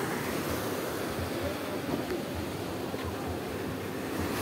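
Big sea waves roll onto a beach in Mariveles, Bataan, as a continuous broad roar mixed with wind buffeting the microphone, steady and fairly loud with no talk.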